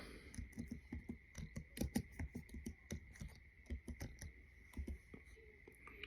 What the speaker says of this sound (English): All I have to do is type in this gospel.